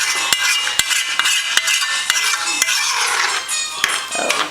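A spoon stirs seasonings into Puerto Rican carne guisado beef stew in a pot, making regular metallic clinks and scrapes against the sides amid a soft wet swirl, close and fairly loud.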